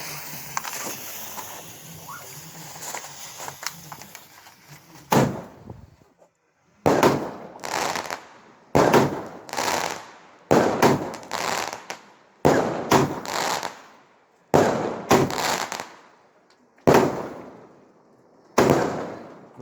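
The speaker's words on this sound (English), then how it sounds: "the sign of a big rocket. The Barbarian from Big Star Fireworks." Barbarian rockets from Big Star Fireworks burst one after another on a UK bonfire night, about nine loud, sharp explosions at roughly two-second intervals, each trailing off in crackle.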